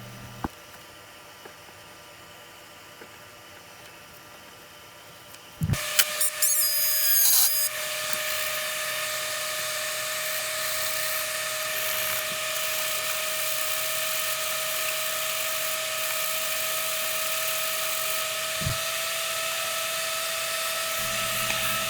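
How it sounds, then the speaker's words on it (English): Power drill boring through hardened wood blocks for wing bolts on a 47% Pitts Special model's upper wing, a steady high whine starting abruptly after a quiet lead-in and running continuously, fairly close. "Here we're drilling those holes through those hardened blocks that we put in the first step of framing."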